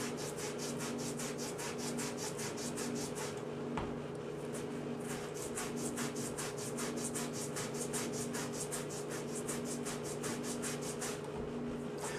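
A Microplane zester rasps the peel of an orange in steady, rapid back-and-forth strokes, close and fairly loud, with a brief pause partway through and no talking.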